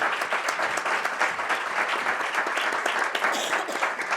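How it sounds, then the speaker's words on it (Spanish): Audience at a health education talk on diabetic patients with chronic kidney disease breaks into sustained, even applause, many hands clapping loudly and continuously throughout. "Un aplauso."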